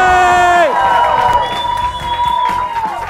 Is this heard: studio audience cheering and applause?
yes